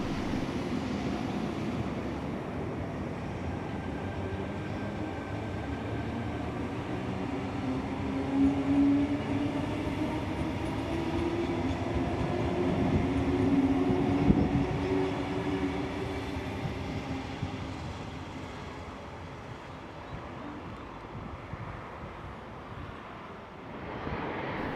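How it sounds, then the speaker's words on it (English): Tangara commuter trains in New South Wales rumble past steadily at close range for nearly half a minute, swelling midway and then slowly easing off, with no voices. "we see more commuter trains running by"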